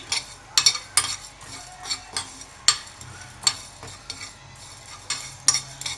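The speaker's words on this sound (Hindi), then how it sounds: "सबसे पहले हमने फ्राई पैन पे हमने ज़ीरा डाल लेना है, साबुत धनिया, इनको हम अच्छे से फ्राई करेंगे।" Cumin seeds and whole coriander frying in a dry frying pan, with a light sizzle under repeated sharp metallic scrapes and taps of a spoon stirring, close and irregular.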